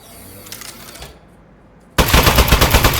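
Rapid automatic gunfire in the video game Aperture Desk Job, a loud, dense burst of fast repeated shots starting abruptly after a short quieter stretch with light clatter.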